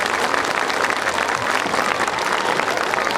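Audience at a children's concert applauds in tribute, a loud, even roar of clapping throughout.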